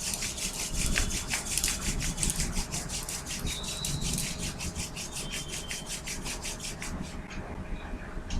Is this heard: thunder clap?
no